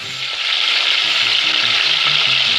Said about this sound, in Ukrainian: Обсмажуємо до легенького. Буквально хвилина-дві на кожній стороні